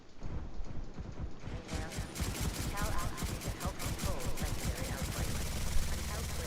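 Rapid gunfire in The Division 2 rattles continuously through the scene, dense bursts of shots layered with game effects while a player talks over them.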